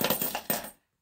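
A handful of 50p coins dropped one after another into a container, producing a quick run of close, bright metallic clinks that stops abruptly after less than a second.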